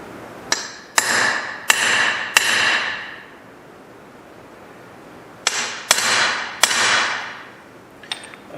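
Sharp metallic hammer strikes on a heavier prick punch, making a larger hole for a router plate: four quick taps, a pause, then three more. Each hit rings briefly and is close and clear.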